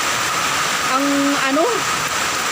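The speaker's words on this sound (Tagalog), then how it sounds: "Ang lakas ng ulan." Heavy rain during a thunderstorm pours as a dense, steady hiss, with a brief voice-like sound rising over it midway.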